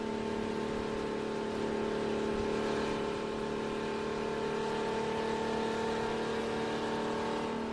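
A sports car laps a racetrack, its engine holding a steady, droning tone throughout without sharp revs, heard from inside the car with no talking.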